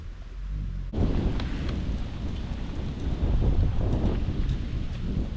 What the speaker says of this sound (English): Here comes the big raindrops.